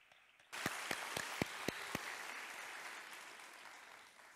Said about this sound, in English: Let's greet and celebrate with an applause all the inspirations who instill courage in us once again from Istanbul